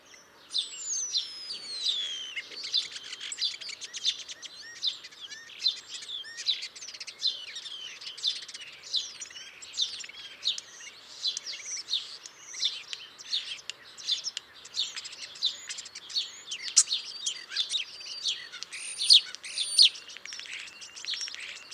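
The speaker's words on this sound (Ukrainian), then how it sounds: "А ось послухайте, як гарно співає шпак." A starling sings on and on, a busy mix of whistles, clicks, chirps and rapid warbling phrases, fairly close and steady throughout.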